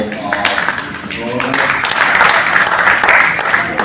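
Audience applause at a monthly master class, a broad wash of clapping that swells and grows denser midway, with voices and speech mixed through the crowd noise.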